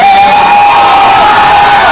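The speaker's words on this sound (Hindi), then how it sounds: "जोरदार ताली।" Large, close crowd at a lively event in Patna roars with loud, sustained cheering and shouting, one high voice held steady above the packed noise.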